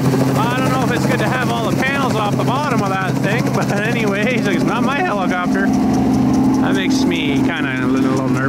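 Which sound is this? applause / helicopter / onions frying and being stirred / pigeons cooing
helicopter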